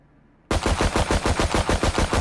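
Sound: gunfire in a video game

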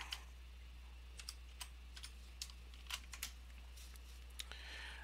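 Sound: typing a password on a computer keyboard

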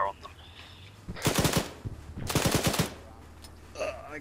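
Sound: gunfire in a military video game

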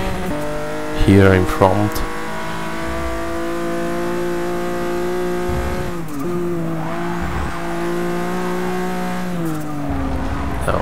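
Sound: British GT race car at Silverstone in video game Forza 6

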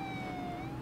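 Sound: police siren in a video game

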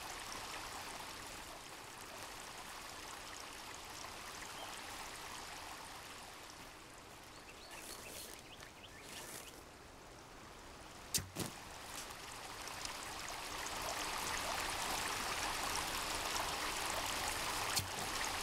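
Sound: flowing stream water in video game Sons of the Forest

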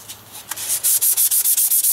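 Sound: emery cloth rubbing on painted wheel hub

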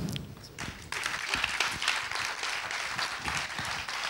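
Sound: applause at an awards gala

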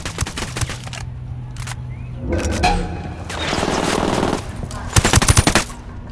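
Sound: submachine gunfire in video game Ghost Recon Wildlands

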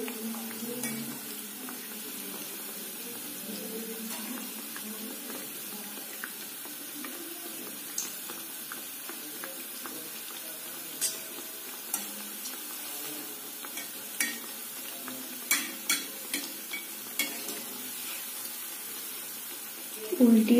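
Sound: chhana jilapi frying in oil, turned over

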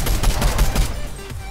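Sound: gunfire in a video game

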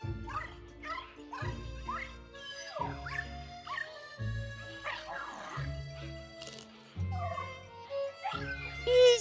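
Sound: pup barking and whimpering in video game Luigi's Mansion 3

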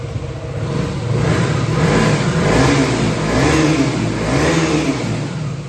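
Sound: KTM Duke 125 motorcycle engine revving

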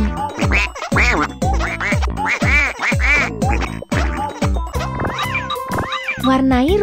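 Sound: duck quacking in children's coloring video game

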